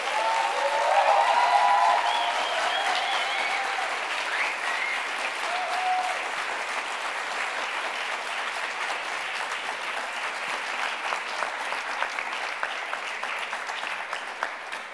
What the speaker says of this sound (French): Je vais encore une fois vous demander d'applaudir nos 6 orateurs et oratrices.